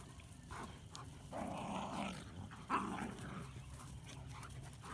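Livestock guardian dogs play with a small black puppy on a farm, low growls and soft whimpers rising faintly over outdoor background noise, with one brief sharper yip.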